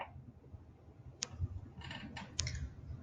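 A computer mouse button clicked a few times on a PC connected to a SMART Board, producing sharp, close ticks in a short, irregular cluster over quiet room tone, with no one speaking.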